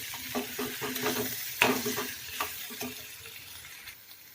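A spoon scrapes and clinks through fenugreek leaf bhaji sizzling in a pan, irregular stirring strokes over a soft frying hiss, close and fairly quiet, with no voices.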